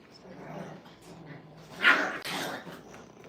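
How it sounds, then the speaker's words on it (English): Six-week-old puppies at a kennel giving a short yip and bark amid faint background rustle and low voice, one brief louder outburst near the middle. "All this is pretty normal puppy behavior, even the growling, barking,"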